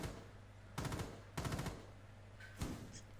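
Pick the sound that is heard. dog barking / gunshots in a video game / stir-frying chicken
gunshots in a video game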